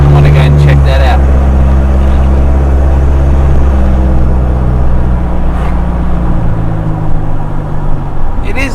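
A Mitsubishi Triton pickup truck with a loud full aftermarket exhaust idles and rumbles close by, a deep, droning low growl that holds steady, with people talking over it.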